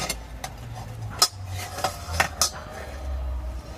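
A baked carrot cake in its tin is lifted down, with a few sharp metallic clanks and taps close by against a low background rumble, with no voices.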